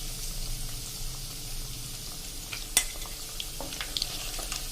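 Paneer cubes fry light brown in a pan for palak paneer, giving a steady soft sizzle broken by scattered clicks and scrapes of stirring.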